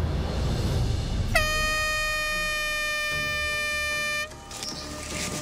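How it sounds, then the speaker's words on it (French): A single long, loud blast from a hand-held foghorn sounds at a reality-show island challenge, a steady harmonic tone holding for about three seconds before cutting off. "je vais faire retentir un coup de corne de brume."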